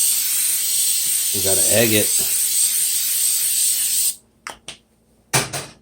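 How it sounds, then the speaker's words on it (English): Short bursts of coconut oil cooking spray hiss near the mic after a voice speaks, a brief spurt followed by a longer spray, while eggs are being readied for a sausage, sugar snap and jalapeno stir fry. "Little coconut spray, make sure it's facing the right way."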